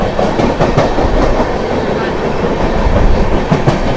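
A Gorakhpur–Yesvantpur express train runs close by while overtaking, making a steady loud roar with a continuous rhythmic clatter of wheels over rail joints.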